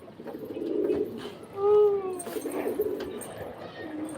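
Pigeons kept on a rooftop coo softly nearby, a low throaty burble rising and falling over a few seconds against faint outdoor background noise.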